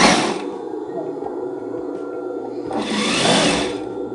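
A sewing machine stitches a lace baby blanket with a ribbon-threading insert, running as a steady mechanical whir with louder bursts at the start and toward the end.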